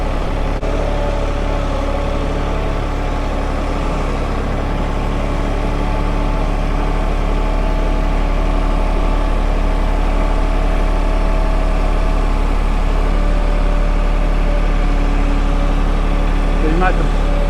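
A tractor engine idles steadily, a continuous low rumble with a constant hum that stays loud and unchanging, while people talk over it now and then.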